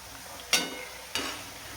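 Soft, steady sizzle of taro leaf rolls (alu vadi) frying in oil, broken by two brief scraping stirs about half a second apart.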